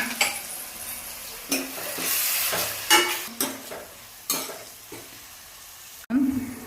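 Finely chopped tomatoes frying with browned onions for pav bhaji, a continuous sizzle broken by repeated sharp scrapes and clanks of a spoon against the pan, close and without talking.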